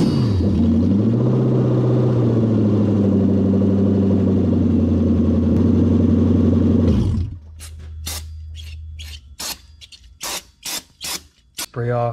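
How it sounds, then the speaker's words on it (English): Lexus GS400 after a manual transmission swap, starting up with a loud steady engine idle for about seven seconds, then shutting off, followed by a series of sharp intermittent mechanical bursts. "we're gonna give it a test start"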